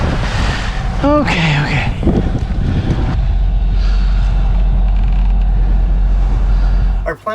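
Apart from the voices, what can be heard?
wind at sea on a sailing boat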